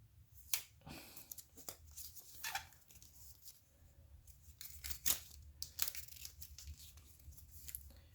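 Packaging for i12 TWS wireless earbuds being opened, with rustling, tearing and crinkling of box and wrapping in irregular bursts, close but quiet, over a low background hum.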